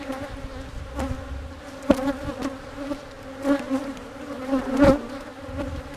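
Honey bees buzz steadily inside a weak hive during an inspection, a close, continuous drone with small swells and a few sharper passes from individual bees.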